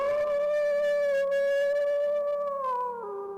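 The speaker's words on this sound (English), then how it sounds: "They even howl for us." A werewolf howl: one long, loud, sustained wavering wail with rich overtones that holds steady and then slides downward at the end, heard alone and close.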